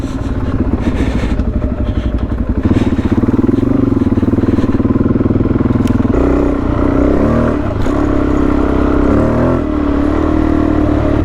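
A motorcycle engine runs roughly on a ride near the Gold Coast and Drake, giving a loud, continuous, uneven throb with a pulsing clatter that shifts partway through and never lets up.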